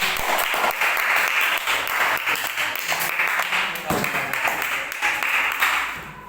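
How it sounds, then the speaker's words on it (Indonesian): A classroom of students applauds a group during a microteaching math lesson, a loud, continuous burst of clapping that tapers off at the end, with some voices mixed in. "tepuk tangan untuk kelompok 1"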